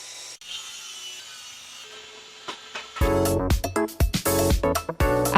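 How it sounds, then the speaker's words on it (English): Miter saw cutting white wood planks for a toy shelf: quiet workshop sounds at first, then about three seconds in a loud, harsh cutting burst rings out close, surging and dropping in several rough pulses until the end. "I'm using a miter saw to shorten some of the wood planks for the Pokemon shelf."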